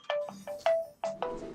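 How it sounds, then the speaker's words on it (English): A phone ringtone plays a short electronic melody of about five or six quick, clear beeping notes, close and alone with no talk over it. "Phone's ringing."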